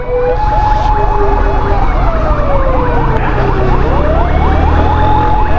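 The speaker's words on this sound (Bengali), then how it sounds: "বাইরে সাইড দে অ্যাম্বুলেন্স গুলো রে সাইড দে রে ভাই" An ambulance siren wails loudly and close in traffic, its rising and falling yelp pattern running continuously over engine rumble, with the pitch sliding down as it passes.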